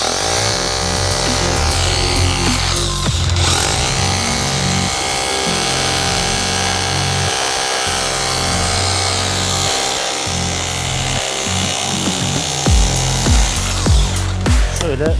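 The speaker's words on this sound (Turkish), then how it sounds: "makine betonu kırıyor" Loud, continuous grinding and rattling of a Retools power tool breaking concrete, steady throughout with heavier thuds near the end.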